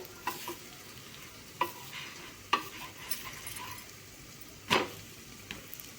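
Adai dosa cooking on a pan and being flipped, a faint steady sizzle punctuated by a handful of sharp spatula scrapes and taps at irregular intervals, close by and quiet, with no speech.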